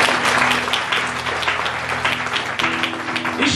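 A church congregation at a devotional service claps loudly and continuously over a low sustained tone from an instrument or hum.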